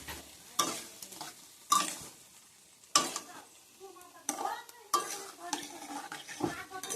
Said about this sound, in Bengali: এবার কচুটা দিয়ে ফের কষাতে হবে।